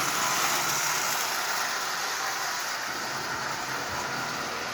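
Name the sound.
Lionel 8500 model train locomotive running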